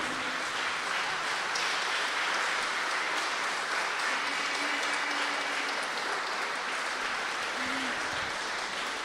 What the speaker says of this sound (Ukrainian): ваші оплески, щирі оплески зігрівають серце і душу